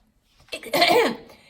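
A single voiced cough imitation, close and fairly loud, a short harsh burst that trails off, with no other talk around it.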